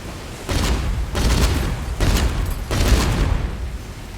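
Ship cannons fire in the Age of Water video game in four booming volleys at roughly even intervals, each a loud, rumbling burst of blasts.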